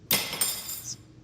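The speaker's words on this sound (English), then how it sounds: "the glass ended up clattering with the other assorted mugs and glasses that were already there" Glassware clatters into a pile of mugs and glasses near a sink in a visual novel game: a sharp clink, a second knock, then a brief ringing chime fading out, with no talk.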